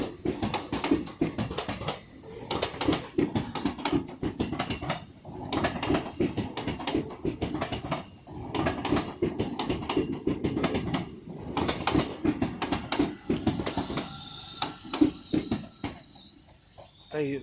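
A British Rail Class 805 passenger train runs through Crewe station on the West Coast Main Line, a loud continuous rumble with rhythmic wheel clatter and faint squeal as the carriages pass close by, with no one talking.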